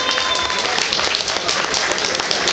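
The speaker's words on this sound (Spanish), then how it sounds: "si nos das un aplauso" An indoor audience applauds for comic artist Sixto Valencia at a Mexican comics event, a steady, dense burst of clapping that holds at an even level throughout.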